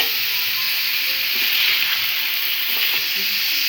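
Pieces of bottle gourd sizzle loudly in a hot pan with chili and salt as they are stirred, a steady close hiss with faint scraping under it, no voices.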